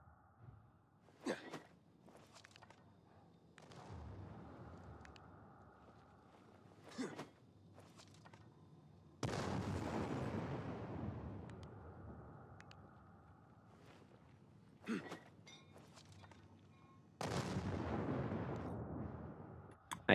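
Grenade explosions in Dying Light 2 at night, several booming blasts spread across the clip with decaying rumbles, between quieter stretches of footsteps and faint background noise.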